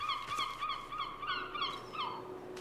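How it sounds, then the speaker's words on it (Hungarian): A seagull in the PC game Broken Pieces calls loudly and repeatedly near a church gate, a run of harsh cries over a steady ambient background, with no talking. "De hangos az a sirály."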